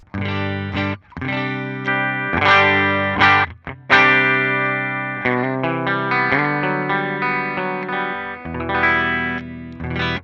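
An electric guitar played through a Line 6 POD Go factory preset rings out distorted chords and single notes with chorus and effects, loud and sustained, with a few brief pauses between phrases.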